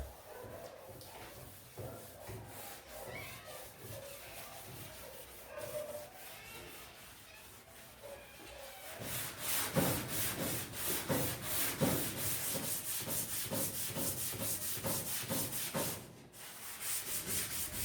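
Body filler on a car panel being sanded by hand, a steady rasping rub that grows louder and more rhythmic partway through, with repeated back-and-forth strokes close to the ear.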